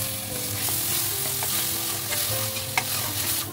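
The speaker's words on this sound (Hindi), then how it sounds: "इसमें हम एक चम्मच लहसुन अदरक का पेस्ट दो टमाटर की हमने प्यूरी बना रखी है वो भी हम इसमें डाल देंगे" Onions browned in a pan with ginger-garlic paste and tomato puree added for palak paneer, giving a steady close sizzle with stirring scrapes throughout and no talk.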